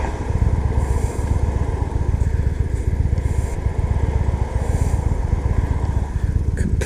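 Victory Highball motorcycle engine while riding on city streets, a loud, close, rumbling throb that stays steady throughout with slight variations in pitch.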